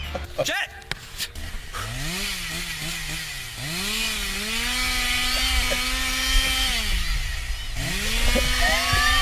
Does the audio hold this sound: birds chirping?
no